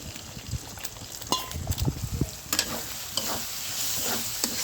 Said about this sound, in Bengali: তেলে গরম হয়ে গেছে, ডিমগুলো ভেজে নেব